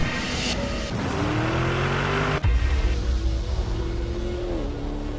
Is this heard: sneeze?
no